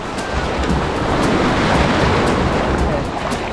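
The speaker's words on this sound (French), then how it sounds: "mais il y a des vagues là." Sea waves wash steadily and loudly along the shore at Itsukushima, a continuous broad surf roar with some wind buffeting the microphone.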